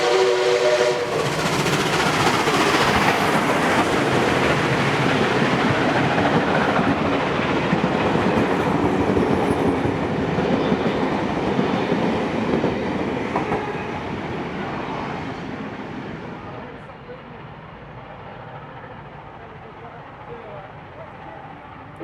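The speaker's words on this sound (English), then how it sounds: "5917 heading through Heathcote, pulling the Kiama Picnic train" Steam locomotive 5917 hauls the Kiama Picnic train through Heathcote, New South Wales, a loud sustained roar of exhaust and rolling wagons with clickety-clack and a brief whistle, fading somewhat toward the end as it passes.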